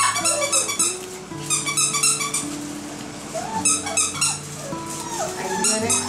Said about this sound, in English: look at all these 12 puppies.